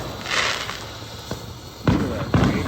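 Fourth of July fireworks and firecrackers going off outdoors, with a few sharp bursts and crackling pops scattered across the moment, moderately loud against a quiet background.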